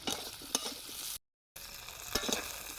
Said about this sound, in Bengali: এখানে পেঁয়াজ কুচি আর কচি কুচি করে আলু কেটে নিয়েছি তাই এখানে ফেলে দিয়েছি দেখো ভাজা হচ্ছে